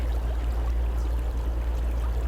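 Steady rushing water of a stream flowing continuously, with a low broadband rumble throughout and no voices.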